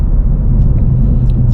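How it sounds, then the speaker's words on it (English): A 2023 Ford Mustang Mach 1 with active exhaust cruising steadily, its deep low rumble droning continuously from inside the car without any sharp revs. "the exhaust just sounds fantastic on this car"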